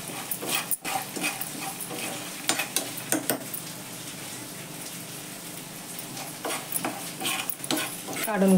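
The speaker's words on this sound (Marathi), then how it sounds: "पॅनमध्ये मी हे जे शेंगदाणे आहेत ना ते थोडेसे तळून घेते" Peanuts frying in a little oil in a pan, a dense continuous sizzle and crackle with repeated scraping stirs and clatters throughout, close and fairly loud.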